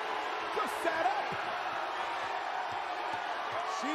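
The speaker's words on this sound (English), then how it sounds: "Listen to this crowd." Wrestling arena crowd at a SmackDown event roaring in a steady, dense wash of cheers and shouts, loud and continuous throughout with scattered whoops rising above.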